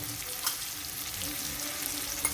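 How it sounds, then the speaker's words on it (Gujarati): Tomatoes fry in a pan for a Gujarati chora (black-eyed bean) curry, giving a steady, close sizzle with soft bubbling throughout and a couple of faint stirring clinks, no voices. "એકથી બે મિનિટ ટામેટાને પણ આપણે શેકાવા દઈએ"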